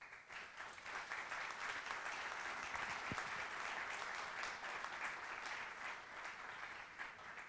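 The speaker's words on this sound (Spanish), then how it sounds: "son señales que merecen un fuerte aplauso de parte de todos nosotros" Audience applause at an opening welcome address, a dense, steady wash of many hands clapping throughout, moderately distant and without any voices over it.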